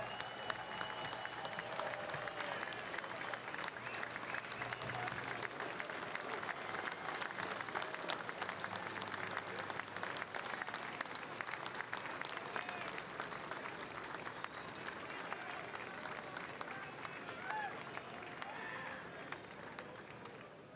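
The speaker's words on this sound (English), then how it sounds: "how about a big round of applause for all of this year's medal winners?" An audience at an FDNY Medal Day ceremony applauds the year's medal winners with dense, steady clapping that lasts throughout and fades slightly at the end.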